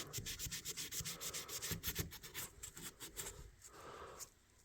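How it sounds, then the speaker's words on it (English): Sandpaper rubs over the steel spine of a vintage knife blade in quick, rhythmic back-and-forth strokes, close and fairly loud, easing off near the end. "The back of the blades here, or the top of the blades here. A lot of times I'll take a little sandpaper."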